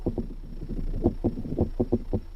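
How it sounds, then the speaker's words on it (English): A peacock spider's mating dance, with leg shaking and body buzzing, comes through as rapid low rattling pulses in irregular bursts, close and moderately loud, with nothing else over it. "That's the sound of a peacock spider seducing a mate."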